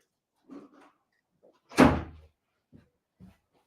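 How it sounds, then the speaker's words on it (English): A house door swings open with a single solid thunk, followed by faint soft shuffles as a dog goes outside; quiet surroundings otherwise. "I have my dog in the door."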